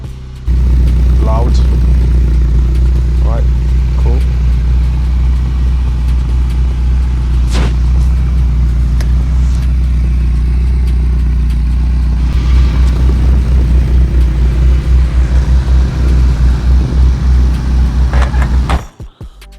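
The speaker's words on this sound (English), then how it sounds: "just give it a quick start, see what it sounds like. That's very loud," A 1982 Ferrari 308 GTS engine runs loud and close at a steady idle with deep low rumble throughout, brief revs and clicks, before cutting off at the end; a voice speaks briefly.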